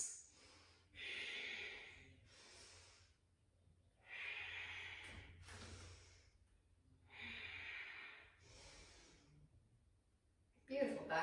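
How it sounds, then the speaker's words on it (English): Deep ujjayi breaths during a yoga session, four slow, audible hissing breath cycles, each a long breathy rush separated by quiet pauses, close and soft, with a sharper sound at the very end. "deep ujjayi breaths."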